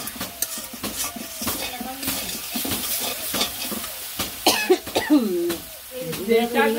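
Fish frying in a pan in a home kitchen, with sizzling and the clatter of stirring utensils against the pan, under ongoing talk and a cough.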